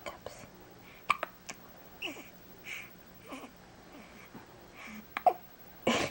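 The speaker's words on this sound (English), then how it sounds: "Got the hiccups?" Person hiccuping, several short sharp clicky bursts spaced irregularly, close and fairly quiet, with soft speech and whispering between them.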